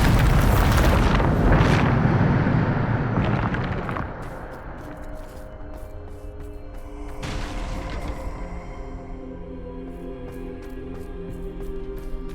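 A Bombarda explosion spell goes off in the video game Hogwarts Legacy: a loud, booming blast with a long rumbling decay, followed by a second softer burst and a tinkling, ringing tail fading out.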